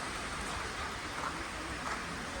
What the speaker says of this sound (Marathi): आज पाऊस खूप आहे नाशिक मध्ये